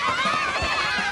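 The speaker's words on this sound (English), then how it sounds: "What the heck are they cheering for?" A cartoon crowd cheers at a town party, a dense burst of many overlapping excited voices and shouts, loud and continuous.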